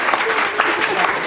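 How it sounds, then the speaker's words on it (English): Audience applause after a panel session on major donor fundraising, a brief burst of dense, steady clapping from a room full of people. "I'm sure you'd like to give them all a round of applause."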